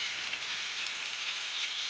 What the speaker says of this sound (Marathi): बघा इकडं दाखवून किती जोरात पाऊस पडतो